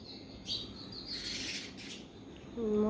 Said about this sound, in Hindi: मॉर्निंग में यहाँ पे इतने सारे पक्षी आ जाते हैं। ये मैंने यहाँ पे बाजरा डाला हुआ है